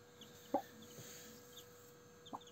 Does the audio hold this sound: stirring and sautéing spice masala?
no